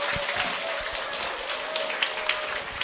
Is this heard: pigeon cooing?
no